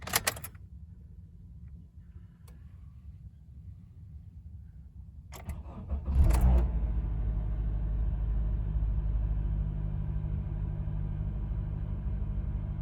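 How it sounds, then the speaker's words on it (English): A Honda car engine starts up in the morning: quiet idle-free stillness with a few clicks, then a burst as it cranks and catches around midway, settling into a steady, smooth low rumble of idling up close. "Ready to start the car next morning."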